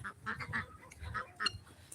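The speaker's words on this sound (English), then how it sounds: "Getting our ducks put up." Ducks quacking in short nasal bursts as they are herded in and put up for the evening, several birds calling over a low rumble of background noise.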